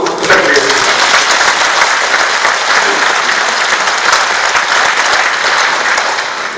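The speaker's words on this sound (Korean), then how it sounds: "여러분 모두를 위해서 다 같이 한번 박수로 부탁드리겠습니다" Loud, sustained applause from a large crowd at a Icheon Citizens' Day ceremony fills the whole stretch, steady and dense with no pauses.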